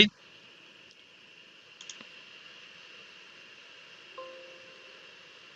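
A computer mouse clicks OK in aerodynamic surface simulation software: a few faint, quick clicks over a steady low electronic hum.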